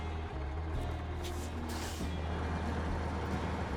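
A heavy off-road truck in SnowRunner rumbles steadily close by, with a brief hiss like an air brake partway through and no talking.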